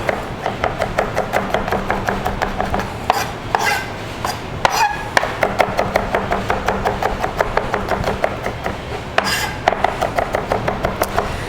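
Raw garlic being chopped with a knife on a board, a fast, even run of sharp close taps that pauses briefly a few times and then resumes, with no talking.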